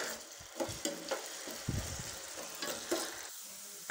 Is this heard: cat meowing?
no